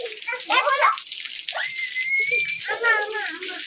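Grandfather pours water at home during playful indoor splashing, a steady rushing, splashing stream that runs throughout while children's voices and high whistly calls sound over it.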